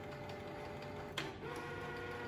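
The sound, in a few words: office printer printing a page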